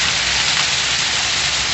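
A hard downpour drums on a house roof in rural Pernambuco, close and loud, forming an unbroken wash of falling water with nobody speaking.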